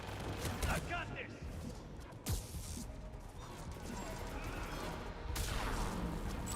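Gunfire crackles through a sci-fi video game battle, with scattered bursts and sharp impacts, including one loud crack midway and a rising volley near the end, over a constant background din and voices.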